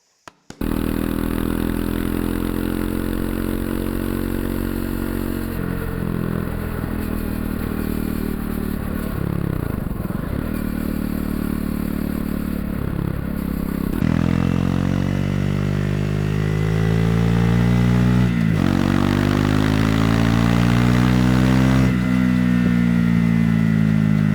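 A Triumph Scrambler 400X with a Yoshimura GP-Magnum titanium exhaust revs and rides steadily, its deep exhaust rumble rising and falling through gear changes, loud and close throughout.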